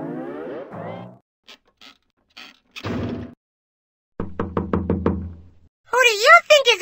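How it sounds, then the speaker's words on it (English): Knocking on a door in a Sesame Street computer game: a few short, soft raps arrive between a character's animated speech, followed by a louder sung voice. "Who do you think is at door?"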